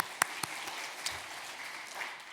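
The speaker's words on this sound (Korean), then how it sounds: "우리 하나님께 영광의 박수 한번 올려드리겠습니다." A church congregation claps together for several seconds after a sermon prayer, producing a steady, fairly soft patter of hands with a few sharper claps near the start.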